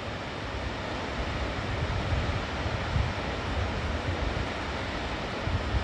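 Elagarh waterfall near Dharchula, water plunging from a great height, heard as a steady broadband roar with rumbling low surges, constant and fairly close, no voices.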